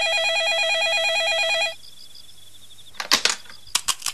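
A telephone rings loudly with a steady electronic warble that cuts off after about a second and a half, followed by a quiet pause and then a few brief clattering knocks.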